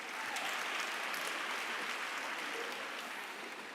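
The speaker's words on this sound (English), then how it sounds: "Let's give him a big round of applause as he takes the mic." A university graduation crowd applauds a professor as he takes the microphone, producing a steady, moderately distant wash of clapping that holds evenly from start to finish.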